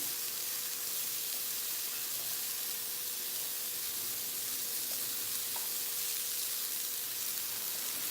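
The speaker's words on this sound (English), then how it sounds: "So we're gonna roast this with the cauliflower." Red onions and cauliflower roasting in a pan make a quiet, even sizzle that holds steady throughout, with no voices.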